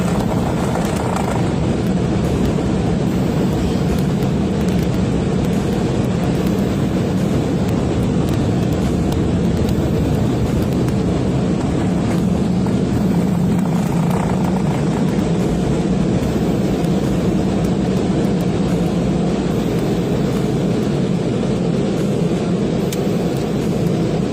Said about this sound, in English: I'm going through this car wash.